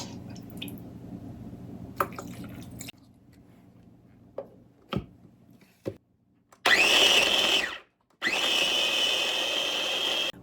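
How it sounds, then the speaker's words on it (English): Ninja blender pureeing chicken scraps with reserved broth, heard after some clinks and handling noises as two loud, whirring bursts near the end separated by a short pause. "I'm gonna take my Ninja blender and I'm gonna start cycling through a lot of the scraps along with a little bit of the broth"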